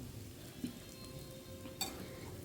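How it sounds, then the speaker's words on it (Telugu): Prawns frying with onions and green chillies in a pan give a steady, low sizzle throughout, with two brief louder clinks or stirs standing out over the constant hiss. "తర్వాత ఉల్లిపాయ పచ్చిమిరపకాయ వేసి వేపుకుంటాం"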